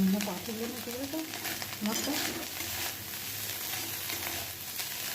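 Oil sizzles steadily while a utensil scrapes and stirs through frying small shrimp, with occasional voices in the background.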